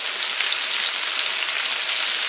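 Chicken sears in a hot pan with a loud, steady, close hiss of sizzling oil and no pauses or voices.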